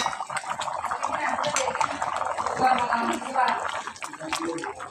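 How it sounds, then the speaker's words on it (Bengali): A pot of chicken curry with large meat pieces boiling, making an uneven, close bubbling and gurgling that swells and eases, and a voice can be heard at times. "দেখি কি অবস্থা রান্নাটা কেমন হলো টকবক করে ফুটতেছে"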